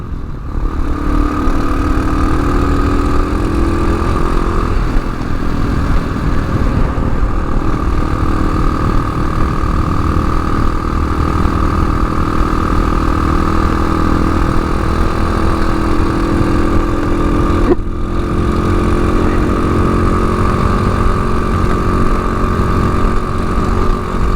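A TaoTao TBR7 motorcycle engine runs steadily at idle, a loud, close, continuous mid-pitched drone with a slight shift in tone partway through and no talking.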